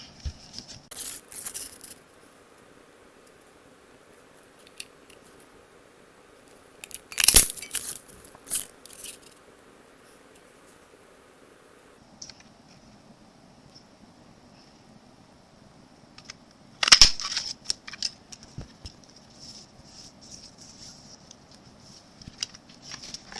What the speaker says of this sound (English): And now it's time to cut these out.